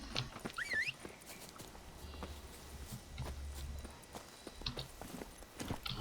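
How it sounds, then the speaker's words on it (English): Roach, the horse in The Witcher 3 video game, moves at a steady pace with a rhythmic clip-clop of hooves, mid-distance and fairly quiet, alongside a brief bird-like chirp and low ambient rumble. "Pero vamos con caballito."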